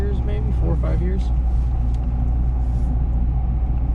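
A 1995 Acura Integra GSR being driven gives a steady, close engine rumble and road hum with no letup, while people talk over it inside the cabin.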